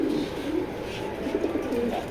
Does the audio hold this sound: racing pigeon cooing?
yes